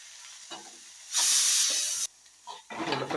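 Soya chunks sautéing in a pan with chutney and salt: a loud burst of sizzling frying lasts about a second mid-clip, with quieter stirring scrapes and soft frying before and after.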